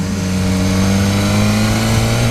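A 2015 BMW S1000R motorcycle engine revving loudly and close, a sustained steady drone with strong harmonic tones and no speech.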